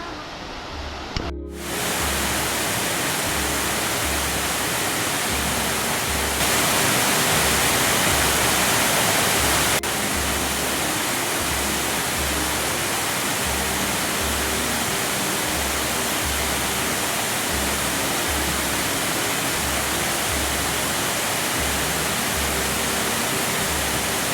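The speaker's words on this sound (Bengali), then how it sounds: "আমরা প্রায় ঝর্নার কাছাকাছি চলে এসেছি" A waterfall in Khagrachhari roars as a dense, constant rush of falling water, loud and close, starting abruptly after a brief quiet moment and continuing unbroken with a low rhythmic thumping underneath.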